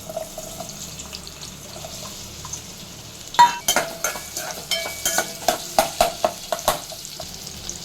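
Half a cup of onions dropped into hot oil for a paneer dum biryani, a quiet hiss that bursts into loud crackling sizzle, then a series of close scraping stirs in the pan.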